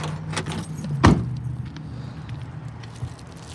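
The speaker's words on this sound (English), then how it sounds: "Get the car started and all that stuff" A car engine idles steadily at close range while keys jangle sharply once near the start, followed by a brief clunk and lighter rattles over the low hum.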